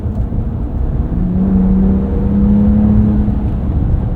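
2025 Ram RHO pickup truck with an 8-speed automatic, engine note rising and shifting as it accelerates, a steady loud cabin drone with low rumble throughout.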